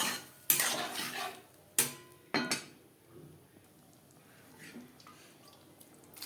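Boiled chana dal tipped into a cooking pan, with a few sharp metallic clanks and scrapes of a utensil against the pan early on, followed by quieter stirring and faint kitchen rustle, no talking.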